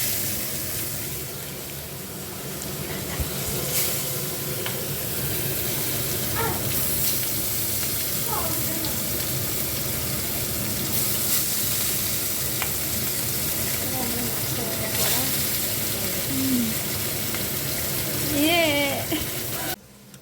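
Turmeric-coated fish fries in hot oil, a steady close sizzle running throughout with occasional stirring clinks and scrapes, while faint voices talk in the background.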